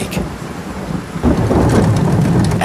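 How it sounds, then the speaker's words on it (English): Heavy rain pours steadily, loud and close, while a low roll of thunder builds partway through the short stretch, with no voices. "And it's been raining all week."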